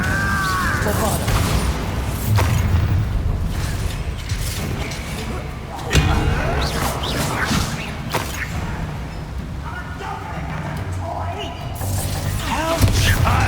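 Bombarda blasting spells in Hogwarts Legacy go off as repeated booms and crashes amid whooshing combat effects and game music, with spoken voices over parts.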